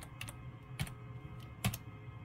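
Sparse keystrokes on a computer keyboard as a command is typed, a few light clicks spaced apart over a quiet background hum.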